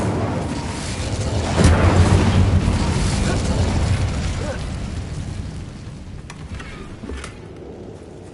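An Incendio fire spell erupts in Hogwarts Legacy as a loud, rumbling fiery blast that swells around the second mark, then roars on and slowly fades over several seconds.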